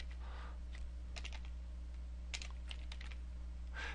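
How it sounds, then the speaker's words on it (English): Quiet keyboard typing while writing C# code, heard as short bursts of several quick keystrokes separated by pauses, close and faint over a low steady hum. "as soon as I start typing, this little drop down appears"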